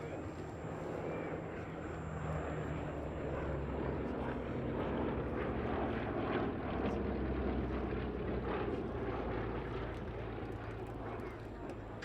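Westland Lysander flying at the Duxford Battle of Britain airshow: a steady, distant propeller-engine drone holds throughout, with an announcer's commentary over it.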